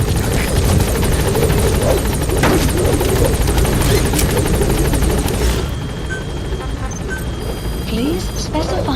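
Helicopter in the Metal Gear Solid V video game whirs with a loud, dense, continuous rotor drone that eases slightly partway through, with brief voices mixed in.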